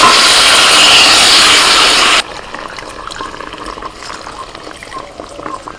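Water pours loudly into a kadai holding hilsa pieces and spice paste, a steady broadband rush for about two seconds that cuts off abruptly, leaving faint kitchen clatter.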